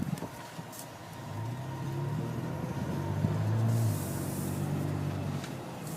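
A 2012 Toyota FJ Cruiser Trail Teams Edition on the move, its engine and road noise forming a steady low rumble from inside the cabin, swelling slightly midway, with no voices.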